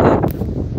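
Steady wind on a beach near Castlepoint Lighthouse, New Zealand, buffets the microphone in a broad low roar, gusting slightly throughout the short moment with no voices.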